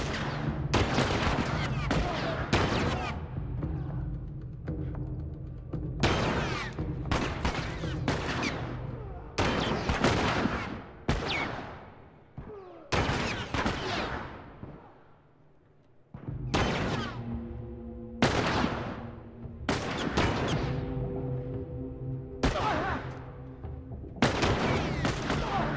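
AI companions shooting enemies in The Last of Us Remastered on Grounded difficulty: repeated loud gunshots and heavy booms in irregular bursts, each cracking sharply and ringing out, with brief quieter gaps between volleys.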